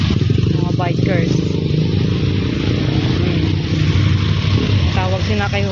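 A large group of bikers rides past on motorcycles, a loud, steady engine roar with clattering mechanical noise close by throughout, while voices talk over it.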